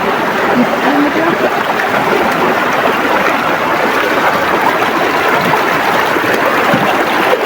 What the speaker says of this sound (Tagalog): Para lumakas yung sapa.